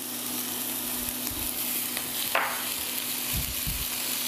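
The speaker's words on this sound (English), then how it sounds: "Saute all that together a little bit." Garlic sautés in a smoking-hot pan with a steady, fairly quiet broadband sizzle, brief stirring scrapes and a short louder crackle midway, with a low background hum underneath.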